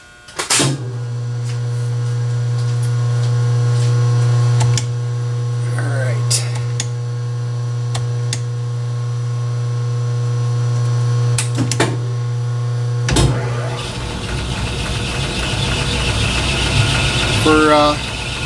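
Small lathe motor humming steadily while facing the ends of an aluminum shaft, with sharp clicks and clunks from the controls and a scraping, rattling cutting noise near the end, alongside speech.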